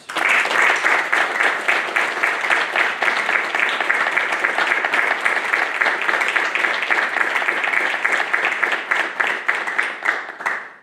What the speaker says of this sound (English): Families and friends, please join me in a round of applause for the Navy's newest third-class petty officers.